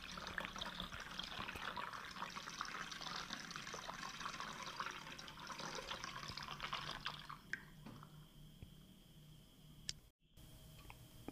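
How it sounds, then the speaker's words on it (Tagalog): Water is poured into the top of a hot and cold water dispenser during a heater repair, a steady splashing, gurgling fill for about seven seconds that stops abruptly, followed by faint drips and small clicks. "Lagyan po natin ng tubig."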